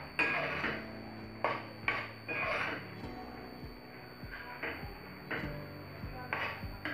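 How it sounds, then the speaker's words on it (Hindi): A spoon stirs macaroni with a bay leaf in a metal pot, giving light irregular clinks and scrapes against the pot at close range, spaced out over several seconds. "और तेज पत्ता डालकर हम इसे चला देंगे।"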